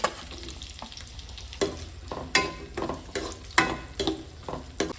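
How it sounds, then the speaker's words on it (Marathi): Onions being stirred as they fry in a pan for an egg masala gravy, a soft steady sizzle broken by repeated scraping strokes of the spatula at irregular intervals, close and alone. "कांदा आपला फ्राय करून घेऊया"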